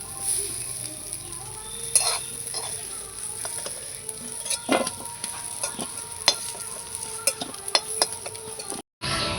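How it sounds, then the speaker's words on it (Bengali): Green jackfruit pieces sizzle steadily in hot oil in a wok while a spatula scrapes and stirs in frequent clinking strokes, close and continuous, with a brief drop-out near the end. "এই যে এঁচোড়টা কিন্তু আমি ভালো করে ভেজে নিয়েছি, এই যে লাল লাল করে ভেজে নিয়েছি।"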